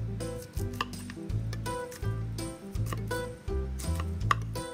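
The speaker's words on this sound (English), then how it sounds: "can also use your fingers to snap apart the florets" Cauliflower florets are snapped apart by hand, giving a series of crisp cracks and thuds in an uneven rhythm, close and fairly quiet.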